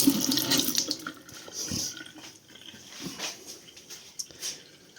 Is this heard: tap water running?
yes